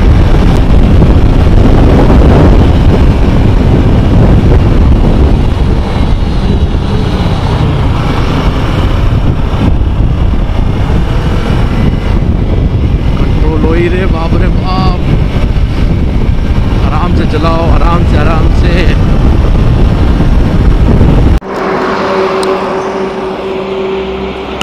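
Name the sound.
Kawasaki Ninja 300 motorcycle riding fast on highway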